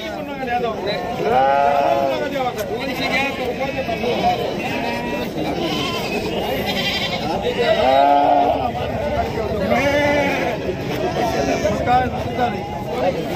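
Goats and sheep bleat repeatedly at a busy livestock market in Sangola, their calls rising and falling close by over a steady background of crowd chatter and voices.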